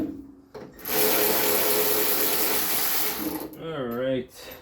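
Power tool spinning out bolts on a Honda Element rear wheel bearing, a loud continuous whirring ratchet run of about two and a half seconds, close up, preceded by brief clicks and followed by a short wavering voice.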